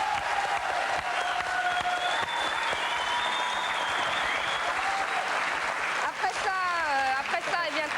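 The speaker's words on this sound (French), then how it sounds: "Vous pouvez l'applaudir." A television studio audience applauds steadily throughout, a broad wash of clapping with a presenter's voice and some tonal sounds layered over it.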